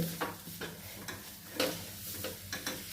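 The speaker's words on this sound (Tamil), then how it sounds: "இவ்வளோ நேரம் தான் நான் கிளறியிருக்கேன்" Kozhukattai dough being stirred in a pan with a spoon, giving soft scraping strokes at an irregular rhythm, close and fairly quiet, with a faint sizzle underneath and no voices.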